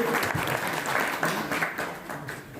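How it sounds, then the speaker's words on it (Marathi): A village gathering of residents from many villages, meeting to oppose a hydroelectric project, breaks into applause. Many hands clap densely and continuously, rising and tapering over a couple of seconds at moderate distance. "सर्वांनी टाळ्या"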